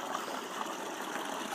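Creek water runs steadily at Nankoweap in the Grand Canyon, a continuous, even rushing and trickling with no pauses, heard alone.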